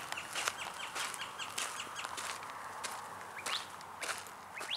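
Repeated sharp, chattering cactus wren calls ring out in rapid bursts outdoors, with faint crunching footsteps underneath.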